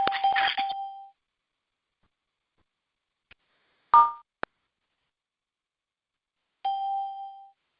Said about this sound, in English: I had to turn off the entry and exit chimes.